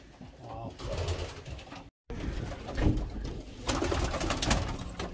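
Racing pigeon cocks coo in a loft in Belgium, a steady chorus of soft, throaty calls close by. Low mixed voices and shuffling run underneath, with a brief dropout partway through.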